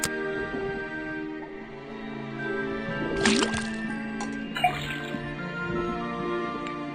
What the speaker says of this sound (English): put the sample of liquid into the cauldron, then tap the faucet